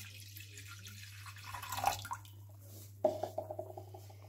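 White vinegar poured into a cooking pot for making pickled onions: faint, intermittent liquid splashes and drips in two short bursts over a low steady background hum, with no talk.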